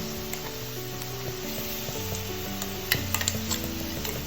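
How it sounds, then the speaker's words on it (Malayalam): Two tablespoons of freshly ground ginger garlic paste sizzle in a pan for pressure cooker chicken biryani, a steady close crackling with a brief clink of utensil near the end. "ഞാനിപ്പോൾ 2 ടേബിൾ സ്പൂൺ ജിഞ്ചർ ഗാർലിക് പേസ്റ്റാണ് ഇട്ട് കൊടുക്കുന്നത്."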